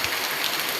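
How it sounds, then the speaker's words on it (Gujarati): Steady rain in Jetpur during the monsoon, a close, even hiss of drops falling on surfaces with no talk over it. "વરસાદ"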